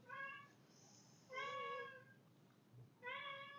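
A pet cat meows three times, close but soft, each cry drawn out and tonal with short pauses between, in a quiet indoor room with no talk.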